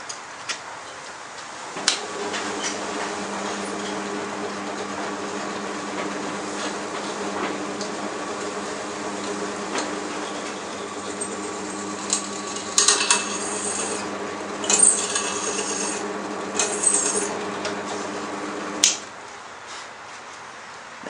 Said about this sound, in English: Okay, now you can drill it.